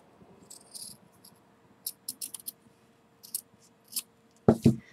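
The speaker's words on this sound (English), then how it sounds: "Then you will cut right across the seam," Scissors snip through the fabric seam at the crotch of a pair of panties, giving a few short, crisp, separate cuts spread over several seconds, with a louder close snip near the end against a quiet room.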